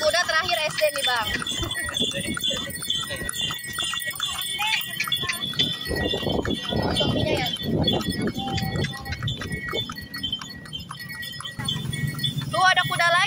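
Horse hooves from a horse-drawn delman carriage clip-clop on a hard road in Kota Tua, mixed with voices talking and general outdoor bustle.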